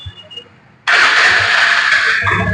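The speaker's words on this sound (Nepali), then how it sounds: "अर्को बाइक छ डिस्कभर 135, गाडी राम्रो छ, फ्रेस छ। साउन्डहरू सुनाइदिन्छु।" A Bajaj Discover 135 motorcycle engine catches abruptly after a quiet moment and settles into a loud, steady running note close by, no talking.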